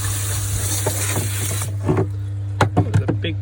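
A water spray hoses off a clogged filter, a steady hiss that cuts off partway through, followed by a few sharp splashes and knocks close by.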